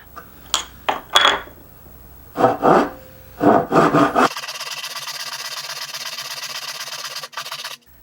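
Hand saw cutting a dovetail in wood: several short rasping strokes, then a steady continuous sawing run, close and fairly loud with no talking.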